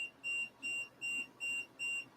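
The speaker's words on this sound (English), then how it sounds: "My phone door alarm." A phone-linked door alarm chimes five times in an even rhythm, short high steady beeps about half a second apart, faint and thin over a quiet room tone.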